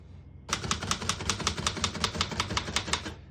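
Keys strike steadily on a 1936 Remington Model 5 portable typewriter, about fifteen crisp, evenly spaced clacks in an even rhythm, close and distinct with no voice.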